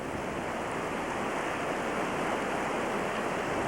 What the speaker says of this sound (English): this is the Lyle Fork of the Tuolumne River in Tuolumne Meadows